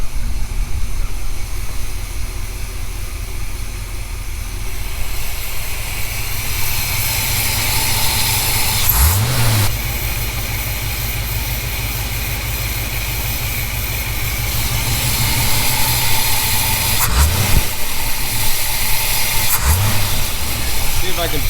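A 1977 Corvette's Chevy 350 V8 engine idles steadily with a deep, even low rumble, holding a constant level throughout with a few brief mechanical transients.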